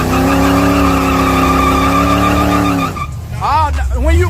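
A Buick Regal G-body holds a loud, steady engine drone at high revs for about three seconds. It then breaks into rougher, wavering squeals and revving as the burnout starts, with voices heard alongside.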